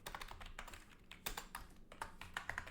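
Computer keyboard typing while writing game code for basic WASD movement input, a steady run of close, crisp key taps in uneven bursts, no voices.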